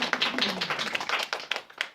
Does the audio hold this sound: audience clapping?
yes